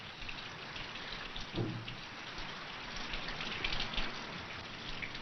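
Steady rain falling in a rural setting, a continuous broadband hiss of drops with slight swells, heard alone without speech.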